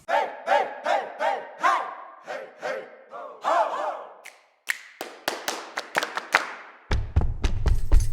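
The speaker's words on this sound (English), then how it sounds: "So we have stomp, clap and shout." Choir sample library stomps, claps and shouts: a rhythmic run of group vocal shouts, then a short pause, then crisp sharp claps and stomps in a pattern, ending with heavier low thumps.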